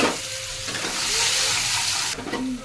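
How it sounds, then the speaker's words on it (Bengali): Carrots fry in a pan with a steady, close sizzle and hiss that swells as the pieces are stirred, with a brief clatter near the end. "এবার আমি গাজরগুলো ভেজে নেব।"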